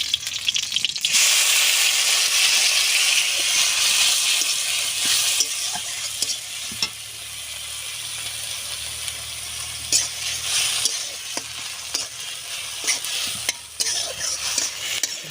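Coriander leaf paste with black cumin seeds fries in mustard oil in a kadai, giving a loud bright sizzle at first that settles into a softer hiss, broken by scraping stirs and clicks.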